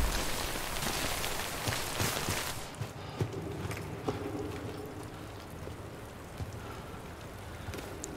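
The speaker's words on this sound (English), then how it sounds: "Wait out the rain over there" Steady rain pours down in the video game Death Stranding, heavy at first and then easing to a lighter, continuous patter with scattered drops.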